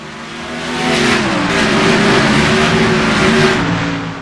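A pack of race cars roars off at the start of a race at Bristol Motor Speedway. Loud, dense engine noise swells after the first second and holds as a sustained, layered wall of revving.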